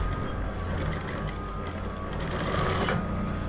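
Sewing machine stitching along a thin fabric cord, a steady close whirring hum of rapid stitches that runs without a break, with no speech.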